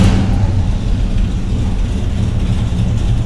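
Small block Chevy V8 with Flowmaster Hushpower HP-2 mufflers, idling with a loud, lumpy, continuous exhaust rumble close to the microphone.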